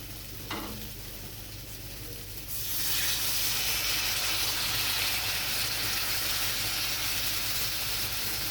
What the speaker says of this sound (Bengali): মশলাটা কষানো হয়ে গেছে, এবার আমি এতে দিয়ে দেবো জল।